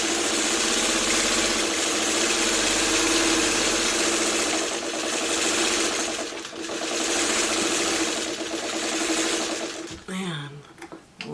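A sewing machine runs steadily, stitching the last seam of a coffee-mug quilt block, with a close continuous mechanical hum and rapid needle rhythm that slows briefly midway and stops near the end.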